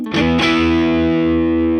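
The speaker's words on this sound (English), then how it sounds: "the overdrive is like glorious. It's just such a nice tone" An electric guitar chord is struck twice through an AmpliTube 5 overdrive pedal, producing a loud, saturated, distorted tone that rings out and sustains steadily to the end.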